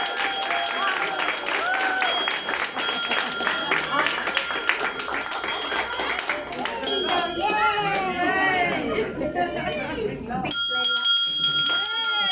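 Bells ring repeatedly amid a noisy group of children cheering and shouting, with brief pauses before the ringing resumes.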